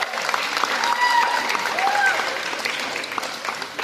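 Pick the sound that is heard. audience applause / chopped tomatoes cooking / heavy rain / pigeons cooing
audience applause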